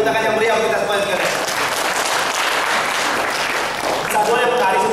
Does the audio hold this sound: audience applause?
yes